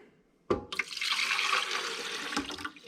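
Water poured into the reservoir of a Keurig coffee maker, a sudden splashing start followed by a steady, bright rushing pour lasting a couple of seconds before tapering off, close and clear with no talking.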